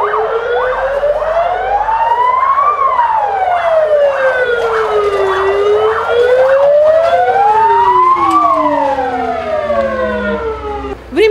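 A fire engine's wailing siren sounds at a church fire drill, rising and falling in long sweeps that overlap with its echoes, loud and close for the whole stretch.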